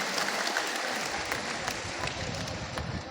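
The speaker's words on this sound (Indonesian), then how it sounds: "Tepuk tangan dulu untuk Pak Bupati dan Ketua DPRD." Applause from a seated audience at an Islamic religious gathering, clapping for the regent and the regional council chairman; dense, steady clapping throughout, close and loud.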